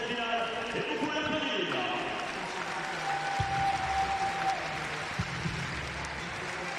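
Crowd noise fills an evening session at the Paris 2023 Para Athletics World Championships stadium, a steady wash of cheering and scattered clapping beneath a commentator's talk.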